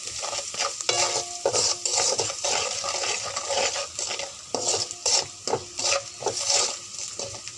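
A spoon stirs hilsa fish with bottle gourd and chili powder in a pan, rhythmic scraping and clattering strokes over a soft sizzle, repeated in close, uneven bursts.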